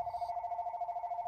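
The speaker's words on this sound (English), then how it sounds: "Phone's ringing." A video game telephone rings with a steady electronic warble, loud and close, repeating in a quick rhythm with no talking over it.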